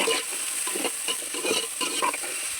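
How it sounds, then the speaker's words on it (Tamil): Tomatoes sautéing in a pan for a river fish curry, a loud continuous sizzle with rhythmic stirring and scraping strokes close by and no talking. "அடுத்து தக்காளி பழம் போட்டு நல்லா வதக்குவோம்"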